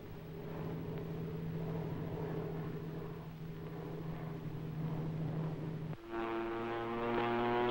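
Propeller aircraft engines drone steadily overhead during a 1945 supply airdrop on Okinawa, a continuous low hum that shifts near the end into a stronger, harmonic-rich whine as the planes pass.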